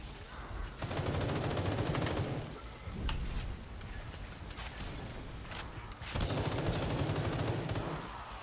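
Repeated gunfire from a Roblox zombie shooter game, dense bursts of rapid shots in two loud stretches with a quieter spell between, close and continuous, no talking.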